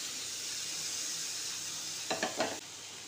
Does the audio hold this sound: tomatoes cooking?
yes